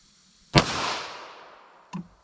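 A single 9mm defense round fires from a 5-inch M&P pistol outdoors, one sharp loud crack with a long fading tail, then a fainter secondary pop.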